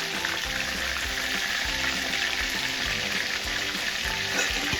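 Chicken sautés in hot oil in a pan, a steady, dense sizzle and crackle that holds at an even, close level throughout with no voices over it.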